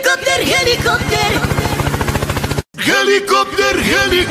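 A voice imitates a helicopter with a loud, rapid chopping buzz, a brief drop to silence, then the choppy wobbling imitation resumes, as in a meme compilation.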